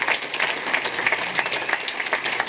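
A festival audience at a film-festival closing and awards ceremony gives a loud, sustained round of applause for the organising team. The clapping is dense and close, with occasional crowd noise and a faint voice underneath.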